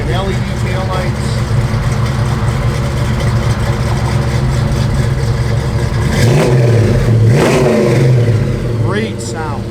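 A 1966 Ford Mustang engine runs loud and close, holding a steady rumble before revving up in a couple of rising bursts near the end.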